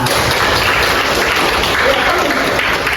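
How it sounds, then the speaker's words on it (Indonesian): An audience applauds at an Islamic lecture, a loud, continuous burst of clapping that fills the whole stretch, with faint voices mixed in underneath. "Tepuk tangan."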